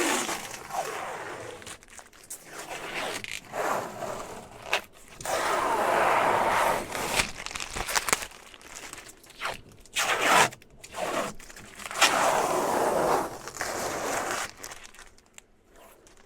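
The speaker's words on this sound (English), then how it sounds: "is peeling this nice film off" Protective film peeled off a new Ford Ranger tailgate, crinkling, crackling and tearing in long pulls with pauses between, close by, with a voice speaking in places.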